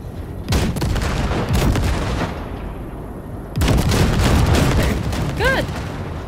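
Weapons on the Basilisk, a cargo ship, blast wrecks in Cyberpunk 2077: heavy, dense bursts of booming fire in two long volleys with a brief quieter lull between, close and loud.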